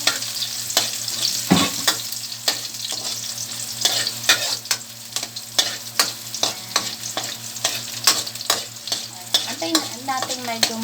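Garlic and onion sizzling over low heat while being stirred for ramen, a steady close frying hiss with repeated scraping stirs throughout and no talking.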